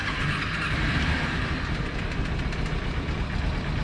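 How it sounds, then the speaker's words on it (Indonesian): A carbureted Kawasaki Ninja 250 motorcycle engine idles steadily while warming up, giving a continuous, even rumble at close range with no speech. "Ini aku coba nyalain motornya,"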